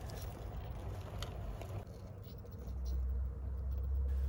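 An RC rock crawler truck with a Hobbywing Fusion SE motor rumbles steadily over rough ground, a low continuous drive noise with scraping texture that swells louder in the second half.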